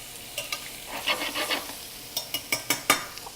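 Food being stirred around a frying pan on the stove, with a spoon or spatula scraping and clinking against the pan in a run of short, close, distinct strokes; no voices.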